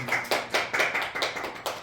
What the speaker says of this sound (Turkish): gönülden alkışlar geliyor